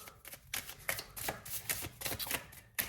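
Tarot cards being drawn and handled for a reading: a close, quiet series of crisp papery rustles and soft snaps, irregularly spaced, with no talking.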